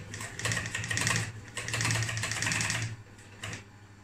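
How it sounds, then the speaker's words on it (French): Triple-feed sewing machine topstitching thick upholstery material, a steady fast mechanical whirr with rapid needle clatter in two long runs separated by a short pause, close and fairly loud. "vous allez pouvoir me voir tranquillement en train de coudre"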